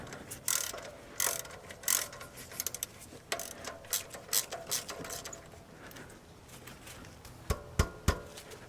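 A ratchet clicks repeatedly as a 12 mm bolt on the generator tension system of a Toyota 2.2L 5S-FE Camry engine is loosened, in irregular bursts of sharp metallic ticks close up.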